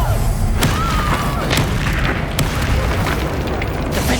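The Bombarda explosion spell in the Hogwarts Legacy video game lands as deep booming blasts and thuds over a loud, dense battle din.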